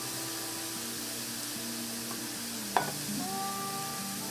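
Red wine and cream go into a hot pan of caramelizing aromatics for a creamy tomato mussel sauce, producing a steady, even sizzle. There is one sharp clink of utensil on pan midway, and the sizzle continues after it.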